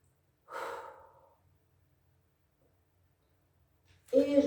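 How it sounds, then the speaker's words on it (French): Two separate breaths during a Pilates exercise, a soft close exhale near the start and a louder, sharper breath at the end, with quiet room hum between them. "Je respire."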